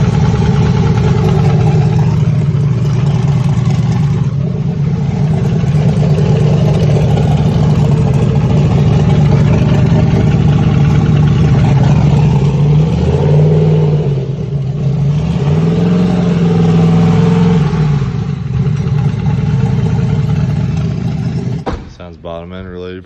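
A damaged car engine with a bottom-end fault idles roughly and unevenly after a cold start, with a steady loud drone and a few rising revs before it cuts off near the end.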